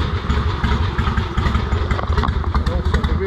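A Harley-Davidson Ironhead Sportster motorcycle engine runs steadily at idle nearby, its loud, lumpy, uneven exhaust pulses chugging continuously throughout.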